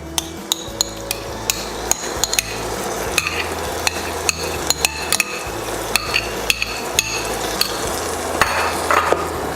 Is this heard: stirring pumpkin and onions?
yes